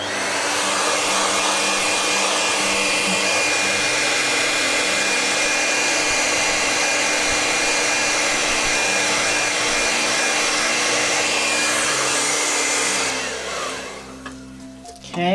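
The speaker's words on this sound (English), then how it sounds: "Also, I'm gonna blow dry a little bit." A hair dryer blows steadily and loudly over a Q-tip painting for about thirteen seconds, a constant broadband whoosh with a motor hum, then switches off and trails into quiet handling noise.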